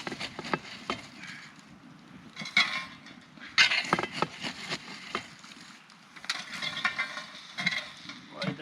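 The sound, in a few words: roast cooking under hot coals at a campfire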